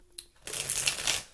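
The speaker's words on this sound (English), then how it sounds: "3 card shuffles, 3 soft shuffles, 3 cards off the top and clarifiers as we shuffle throughout the rest of the reading." Tarot cards are shuffled in a steady crisp riffle of rapid papery flicks that follows a brief tap, close and fairly loud, with no talking.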